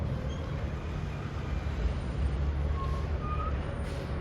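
A garbage truck moving along, its engine a steady low rumble with continuous road noise, fairly close and unbroken throughout.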